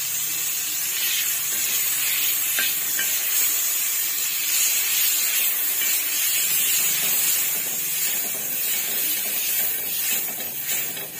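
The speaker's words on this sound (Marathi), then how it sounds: "तवो सद्या गरम जाला आनी तितूंत बटर घालता आतां पयलीं मेल्ट करपाक" Butter melting on a hot tawa over a gas flame, giving a steady, continuous hiss and sizzle with faint crackles throughout, fairly close and unbroken by speech.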